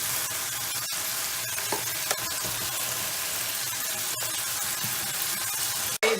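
Afghani pulao rice is mixed in a hot pot. A constant loud sizzle lasts throughout, broken by a few sharp utensil knocks and scrapes, with one clear clank at the very end.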